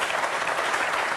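Studio audience applauding on a French television debate show, a dense, steady wash of clapping that fills the whole short moment at a constant level.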